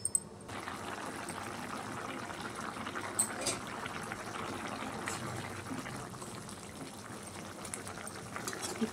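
Prawn curry (pulusu) simmers and boils in a pot, giving a steady bubbling hiss throughout with a few faint clinks.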